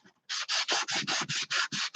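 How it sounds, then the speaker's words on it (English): Sandpaper rubbing along the edges of a folded decoupage paper card, about nine quick, even back-and-forth strokes in a steady rhythm, close and fairly loud with no talk. "And then I need to sand a little bit of this as well."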